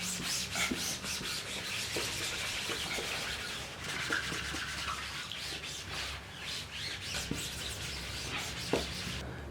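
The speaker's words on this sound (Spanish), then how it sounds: "Vamos a frotar. A esto se le llama pulir." A screen-printing screen being rubbed and polished gives steady, close scrubbing and rasping strokes in a continuous rhythm, with faint chirps in the background.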